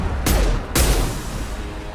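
Rifle gunfire in the Mass Effect video game: two sharp, loud shots about half a second apart, each with a short booming tail over a low background rumble.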